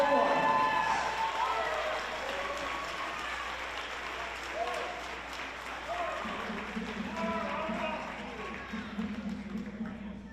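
Steady applause from a crowd at a girls' 2A semifinal basketball game, loud and continuous across the whole stretch, with a public-address voice talking over it and a low sustained hum starting partway through.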